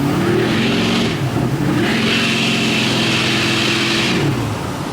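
A Duramax diesel pickup truck engine with blown head gaskets revving and accelerating up close on a dirt road, a deep rumbling drone with rising surges and a gravelly rasp throughout.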